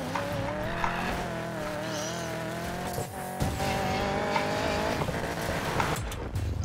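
A car drifts sideways in the racing game Need for Speed Payback, its engine droning steadily beneath a long, wavering tire squeal that holds for several seconds.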